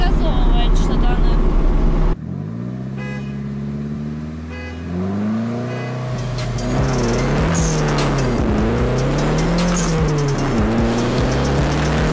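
Two cars from a Mitsubishi GTO, Infiniti QX60 and slick-tyred Nissan Silvia race roar and rev loudly together, pitch climbing and dipping as they accelerate, with tire squeal mixed in and a brief lull early on.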